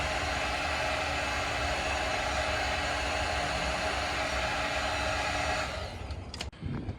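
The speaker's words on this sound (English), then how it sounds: "I'm actually just going to heat them with a blow dryer for a second" A hair dryer blows with a loud, steady whooshing roar, warming a car's side mirror glass, then switches off near the end with a brief clunk.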